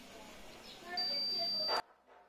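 A multimeter continuity test gives a steady electronic beep lasting under a second, cutting off abruptly, over a faint room background.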